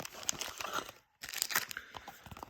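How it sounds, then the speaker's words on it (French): Crinkly plastic foil of a Pokémon booster pack torn open from the top, close and crisp, with one short pause before the ripping and crackling resume. "Là, ça déchire. Ouais, ça déchire ici."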